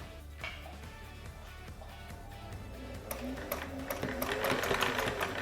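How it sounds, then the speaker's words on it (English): A sewing machine stitches with a rapid mechanical whirr and rhythmic needle clatter that starts moderate and grows louder and busier toward the end. "Oh, she's stitching. She's stitching."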